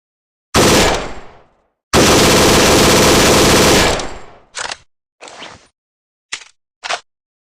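An M4A1 5.56mm assault rifle fires a short full-auto burst, then a longer sustained burst, followed by several brief bursts, loud and close with silence between.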